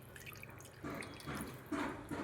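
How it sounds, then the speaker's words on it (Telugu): Water is poured into a cooking pot set for boiling on a stove, quiet splashing in a few short bursts with faint drips between them. "కొంచెం నీళ్ళు పోసుకొని"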